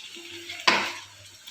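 Garlic tempering frying in hot oil in a pan: a sudden loud hiss bursts up midway, then fades into a softer, steady sizzle with faint clinks.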